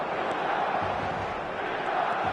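Stadium crowd in an eFootball match at the San Siro, a steady dense buzz of many voices with faint chants, continuous and fairly loud, no commentary over it.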